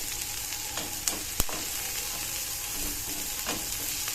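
Potatoes fry in hot oil in a pan, a steady close sizzle with a few stirring clicks and scrapes, alone with no talking.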